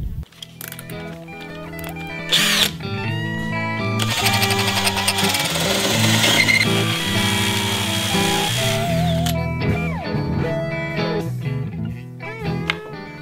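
A power drill drives screws into wooden spruce and larch boards on a temporary woodshed, with loud close whirring bursts, one long sustained run in the middle, and a brief voice in between.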